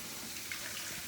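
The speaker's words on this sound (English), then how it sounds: "You have to warm it by making sure that you rinse the ice cream spoon with warm water" Warm tap water runs steadily over an ice cream spoon being rinsed, a soft, even hiss of flowing water at low volume with no voices.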